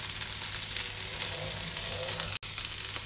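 Onions and mushrooms fry in a pan for creamy garlic chicken, giving a steady, close hiss of sizzling that cuts out for a moment near the end.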